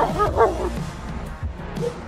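An Alabay dog gives a couple of deep barks, fairly close, with a few rougher yelps trailing after amid some background sound.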